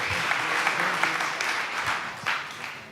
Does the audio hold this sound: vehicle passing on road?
no